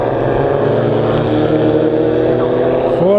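Formula Vee race cars at Mondello Park roar down the straight, a loud steady buzzing engine drone with rising pitch near the end, under a commentator's voice.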